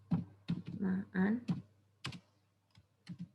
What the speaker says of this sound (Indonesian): Kita ketikkan akar persamaan